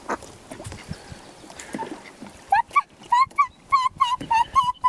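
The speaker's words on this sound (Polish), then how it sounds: "Bardzo odważne te kaczki." Ducks at a lakeside campsite, used to people and being fed, quack in a run of about eight loud, clipped calls at close range after a stretch of mixed background noise.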